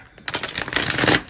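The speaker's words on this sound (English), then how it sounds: "I'm just going to shuffle one more time" Tarot cards shuffled by hand: a brief, close, dense flurry of papery riffling clicks that builds and ends within a second or so.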